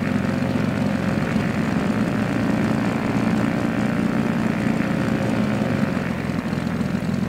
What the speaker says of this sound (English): So you record the real sound of the plane?